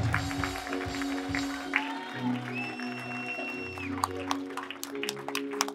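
A church congregation claps in praise during a sermon, scattered sharp claps under sustained keyboard tones and some voices.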